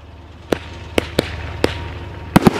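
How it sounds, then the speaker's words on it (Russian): A 19-shot firework battery cake going off, sharp separate bangs spaced irregularly with a quick pair near the end, loud and close, no voices. "Феерия Мэн. 19-зарядный салют."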